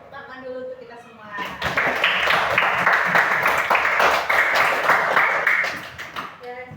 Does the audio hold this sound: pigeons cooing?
no